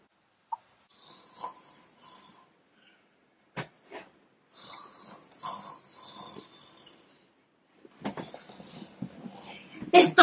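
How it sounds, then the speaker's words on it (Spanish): Person snoring in bed, several irregular snorts and breathy rasps spread across the stretch with quiet gaps, growing louder and rougher toward the end. "Otra vez estás roncando."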